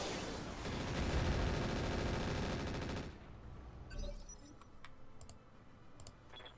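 Mech weapons fire in the video game Roguetech: a sustained, loud, rattling volley runs for about three seconds, then breaks off into scattered clicks and faint impacts.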